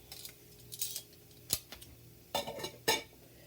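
A metal pan being picked up and handled in a kitchen while cooking onions, with a few clinks and clanks of cookware, close and moderately loud, spaced irregularly with quiet gaps.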